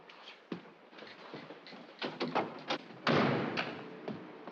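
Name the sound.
door slamming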